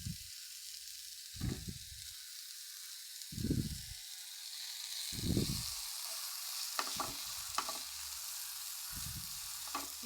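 Tomato and chili frying in a pan, a soft sizzle running underneath while bursts of stirring and scraping come in short irregular strokes, fairly quiet and close.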